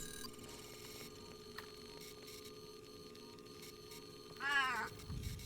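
A pet cat gives a single drawn-out meow near the end, close and fairly clear over a faint steady electrical hum in a quiet room.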